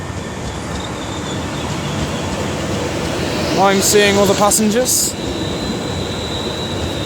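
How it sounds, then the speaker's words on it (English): A London Northwestern Class 350 electric train with a flat wheel runs through Milton Keynes Central on the West Coast Main Line. A steady, loud rolling roar swells briefly with a metallic squeal, and a voice speaks over it. "I think there was a little bit of a flat wheel there"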